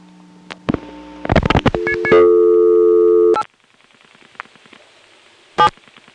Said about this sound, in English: if we dial 870, another invalid office code, we'll get the recording from the 87 step